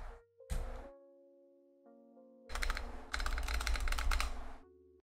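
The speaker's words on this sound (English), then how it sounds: "these stabs are rattly. Or at least the space bar one is." Space bar with rattly stabilizers on a Tofu 60% DZ60 hotswap mechanical keyboard, pressed repeatedly in a fast cluster of clacky, rattling strokes, close and fairly loud after a few earlier isolated taps.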